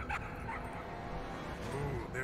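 Cartoon dogs in the video game Trover Saves the Universe yip and whimper in short bursts over steady game sound.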